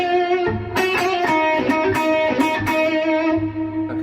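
Overdriven electric guitar plays a higher harmony part, a melodic run of sustained singing notes with bends and effects, loud and up front, with no talking.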